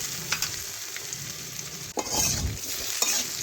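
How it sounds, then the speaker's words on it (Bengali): Potatoes frying in oil with turmeric and salt for a katla fish curry, a steady close sizzle broken by a few scraping stirs of a spatula, with no talk. "একটু ভাজা হওয়া পর্যন্ত আমি অপেক্ষা করে নিচ্ছি"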